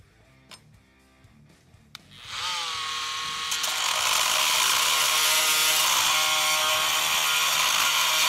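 A Dremel Velocity 7.0 amp corded oscillating tool, fitted with a metal blade and running at its lowest speed of 10,000 RPM, starts after a few faint knocks and settles into a loud, steady high buzz as it cuts through screws.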